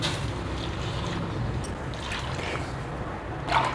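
Water poured into a cooking pot of arvi gosht curry with turmeric, coriander and cumin powder, a steady, fairly soft liquid wash with faint splashes near the end.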